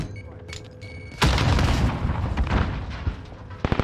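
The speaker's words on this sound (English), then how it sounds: "Tossing a frag." A frag grenade detonates in Call of Duty Warzone, a sudden loud boom followed by a rumbling, debris-filled roar that slowly tails off, with a few sharp cracks near the end.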